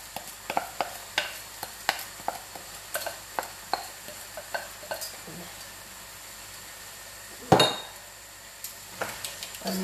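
Washed rice tumbling into a pot while cooking Caribbean-style saffron vegetable rice with okra and pumpkin, heard as a run of sharp scraping taps and stirring clinks, then one louder clatter before the stirring resumes.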